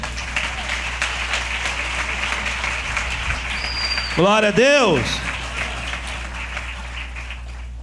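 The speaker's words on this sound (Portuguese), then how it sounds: "Você pode aplaudir o Senhor, amém?" A church congregation applauds during a cell-group worship service, steady dense clapping filling the room, overlaid by a speaker's amplified voice with a strong echoing reverberation partway through.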